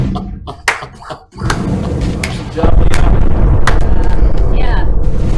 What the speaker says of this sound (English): Yeah! Explosions and stuff.